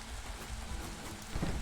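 Steady drizzling rain in the video game Against the Storm, a soft continuous patter that swells slightly louder near the end, with no talk over it.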